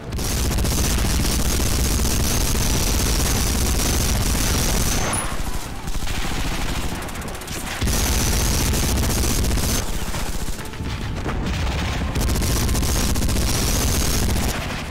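Sustained machine gun fire from a World War II shooter, Medal of Honor, as German machine gun nests are attacked; dense, loud rattling bursts fill the scene, with brief lulls and ongoing battle noise.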